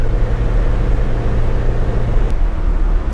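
A 1982 Toyota Corolla TE72 on the road, a steady loud low drone of engine and road noise, with a faint click near the end.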